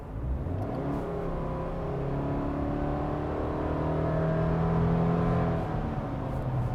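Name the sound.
2021 Subaru Crosstrek 2.5 liter boxer engine accelerating at full throttle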